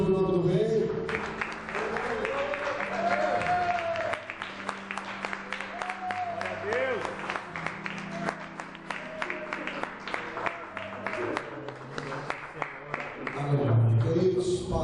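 Church congregation at an evening prayer service in Sorocaba applauding steadily and loudly for the whole stretch, with voices and shouts rising over the dense clapping.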